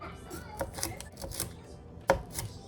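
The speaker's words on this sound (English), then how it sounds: "I am actually going to cut up this broccoli and wash it" A knife chopping broccoli on a cutting board, a few soft scattered cuts and one sharper knock, fairly quiet, with a voice talking over it.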